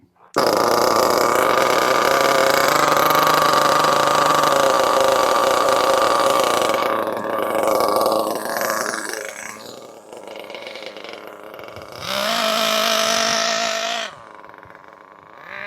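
Nitro engine of a Losi 8ight RTR RC buggy during break-in, a loud steady high-pitched buzz for about seven seconds that drops and sputters toward idle, then a second short burst of revving before it fades.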